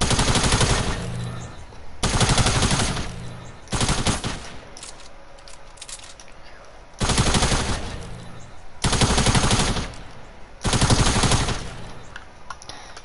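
Automatic gunfire from a video game comes in loud, close bursts of rapid shots about two seconds long, repeated six times with short quieter gaps between them.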